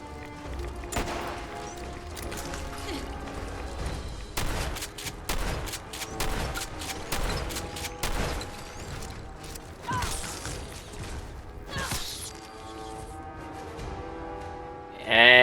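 Grenade launcher fire in Fallout 4 combat, a dense run of sharp bursts and booming impacts layered over a continuous game soundscape with music, loud and busy throughout.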